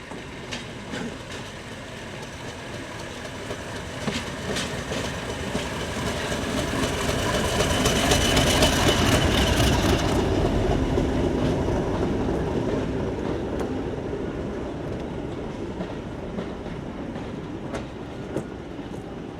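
A Class 50 diesel locomotive hauls a passenger train into Highley station, a broad rumble with rhythmic wheel clatter that swells as it draws near and slowly fades while passing.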